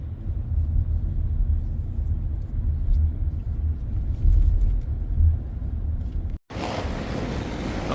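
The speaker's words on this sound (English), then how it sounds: "we just got dropped off in a Tesla Model Y" Steady low road rumble inside a moving Tesla Model Y ride, continuous and fairly loud throughout, with a brief dropout near the end before a brighter, hissier stretch.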